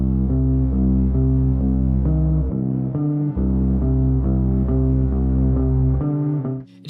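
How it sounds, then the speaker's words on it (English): A warm sub bass holds a simple low note in a track, sustained and steady with a subtle pulsing as notes hit and stop, two brief dips where the note releases before returning, heard alone. "I'm also playing a sub bass here. It sounds like this. Just a simple low note being played"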